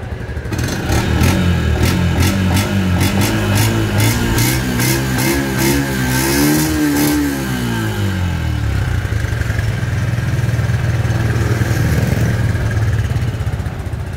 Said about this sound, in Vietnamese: Máy nổ chuẩn.